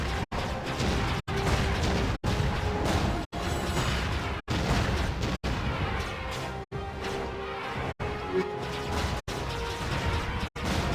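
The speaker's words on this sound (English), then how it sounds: "Those large fires and rock explosions." Large fires and rock explosions rumble in the video game Jade Empire, a dense continuous roar of crashing, booming debris broken by short regular cuts, loud and with no voices.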